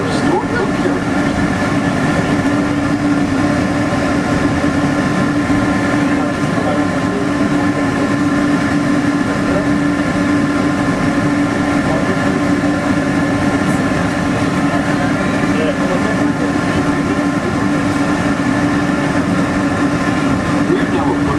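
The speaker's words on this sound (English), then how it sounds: "We're now approaching the Tomorrowland monorail station, our final destination." Walt Disney World monorail rolling toward the Tomorrowland station: a constant loud rumble and hum heard from inside the car, with steady tonal whine and faint rhythmic track clatter, while a recorded announcer voice speaks over it.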